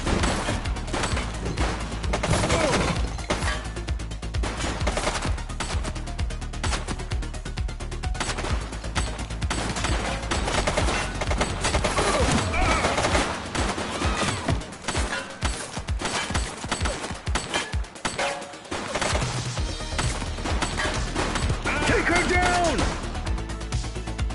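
Dense automatic gunfire and single shots crackle through a police shootout in The Precinct on PS5, loud and nearly continuous, with voices shouting over the fight.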